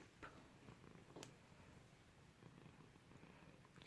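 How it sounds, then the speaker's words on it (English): A cat purrs faintly and steadily, close but very quiet, with a few soft bumps and rustles. "She's purring out of anger."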